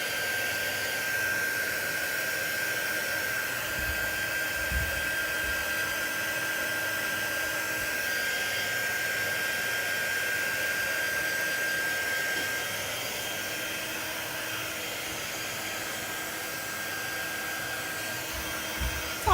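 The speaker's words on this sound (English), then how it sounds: "I'm going to kind of dry this with my heat tool, my drying tool" A handheld heat tool blows a steady, loud whirring rush of air over a craft project for nearly twenty seconds, with a thin high whine running through it. A few soft knocks and handling noises turn up beneath the drone.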